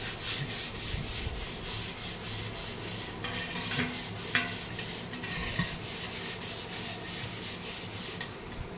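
Steady, rhythmic scrubbing and rubbing against a copper vessel, close up and continuous, with no talking.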